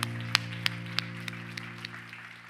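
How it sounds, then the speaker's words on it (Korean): A church congregation at a Sunday youth worship service gives a short, fairly faint round of applause. The claps are sparse and uneven over a sustained organ-like tone. "우리 하나님께 감사의 박수 올려드리겠습니다."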